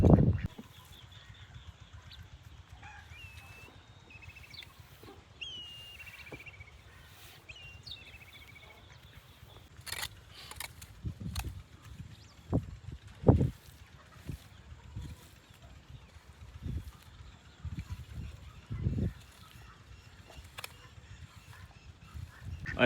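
Ducks gather at an open farm pool to eat grain, giving soft scattered pecking and quiet quacks with occasional louder splashes and knocks, moderately close, with faint chirps of other birds in the background.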